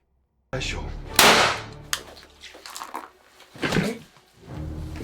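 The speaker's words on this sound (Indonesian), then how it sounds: "William lalu menembak sang detektif dan membuatnya sekarat" A single sharp gunshot cracks in a psychological horror film, loud and close, followed by a quieter stretch of scene sounds and another dull thud.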